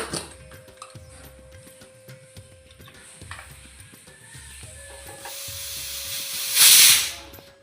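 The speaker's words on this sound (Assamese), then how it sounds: "এটা কুকাৰত অলপ পানী আৰু নিমখ দি পেলাই চিটি মাৰিবলৈ দিম" A pressure cooker on the stove, cooking jackfruit and potatoes, hisses softly with rhythmic rattling, then the steam builds into a loud, brief whistling blast near the end.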